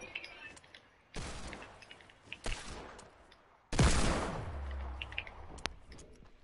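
Sharp, loud gunshot blasts in a video game, a few separated bursts with one heavy boom trailing into a low rumble, followed by fainter clicks and pops.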